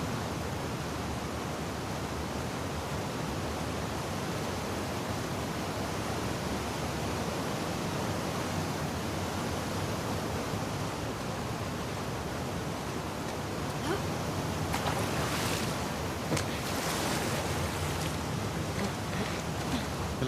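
Swimming through rough water in The Last of Us Part 2 on the way to the aquarium, with a steady, loud broadband wash of waves and current throughout and a brief surge of splashing near the end.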